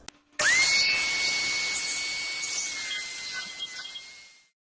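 Power tool grinding and polishing an alloy wheel rim during leak repair, a steady high whine that spins up quickly and runs continuously for about four seconds before cutting off, close and loud with no talk.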